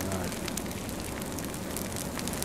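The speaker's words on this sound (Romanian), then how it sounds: "Cipri, ăsta-i focul tău" Campfire burning outdoors with continuous crackling and hissing, a dense, steady noisy texture at moderate level throughout.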